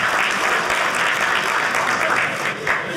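Audience clapping at a stand-up comedy show, a full room applauding steadily and loudly the whole time with a few whoops mixed in.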